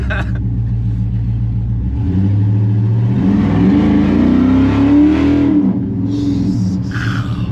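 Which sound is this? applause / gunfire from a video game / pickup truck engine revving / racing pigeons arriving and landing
pickup truck engine revving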